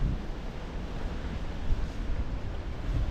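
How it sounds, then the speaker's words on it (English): Strong force 8 wind buffets a clifftop at Migra l-Ferħa in Malta, a steady roar of rumbling low gusts and broadband rush that swells slightly midway, with no voices. "so when we go up, we'll be hit with the full force of the wind again"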